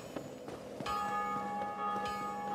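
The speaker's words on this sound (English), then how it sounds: "Stop ringing the bell" A bell rings in the Dark Souls Remastered video game, several metallic strikes with a long sustained ringing tone that lingers and overlaps, moderately quiet and heard alone without talk.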